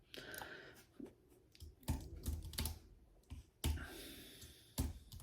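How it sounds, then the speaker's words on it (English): Keys clatter on a computer keyboard in short irregular bursts of clicks, close and fairly quiet, with sharper key strikes standing out and no talking. "It's just going to be me typing game over."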